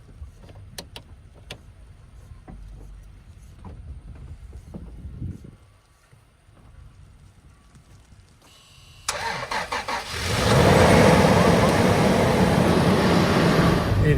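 A six-cylinder car engine cranking on a cold morning at a ski area, with scattered clicks and quiet rumble before the motor catches and roars into a loud, steady close idle.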